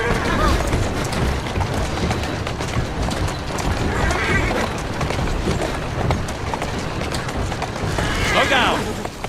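In Assassin's Creed Syndicate, horse hooves clatter steadily as they pull a carriage through the streets, with wheel rumble and occasional whinnies mixed under continuous character dialogue.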